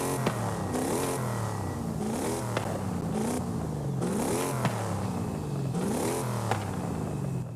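A Ford De Luxe Forza Edition engine in Forza Horizon 5 revs repeatedly, four rising and falling swells of engine pitch in a steady rhythm, loud and close with no talk.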